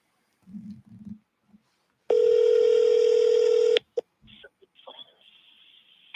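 A steady telephone dial tone sounds loud and alone for about two seconds, placed while calling a person, then breaks off into short tones and clicks; brief low voice murmurs come before it.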